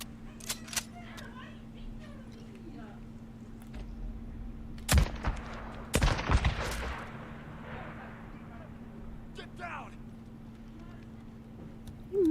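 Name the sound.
gunfire in the video game Days Gone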